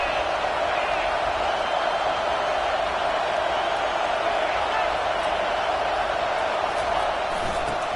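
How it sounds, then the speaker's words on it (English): Steady roar of a college football stadium crowd, a dense wash of noise holding at an even level throughout with no distinct cheers or breaks. "This crowd trying to make life miserable for this offense."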